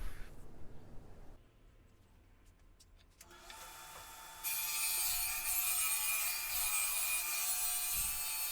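A Sears Craftsman table saw cuts wood: motor noise rises after a quiet stretch, then a loud, steady broadband whine of the blade through the wood runs to the end.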